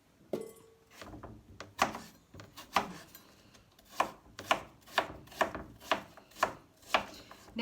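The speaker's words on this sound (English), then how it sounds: "probably shouldn't do what I'm doing and using my knife to scrape the food off" A knife scrapes chopped apple off a cutting board for a slow cooker, making a steady run of sharp scraping strokes close up, quickening into rhythmic repeated scrapes with no talking.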